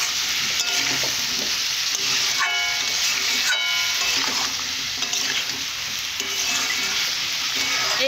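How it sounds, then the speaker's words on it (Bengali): Meat being stir-fried for kosha in a pan makes a steady, close sizzle, with repeated scraping stirs from a spatula coming in uneven strokes throughout. "এইভাবেই কষে নেবে, তোমরা এইভাবেই কষবে।"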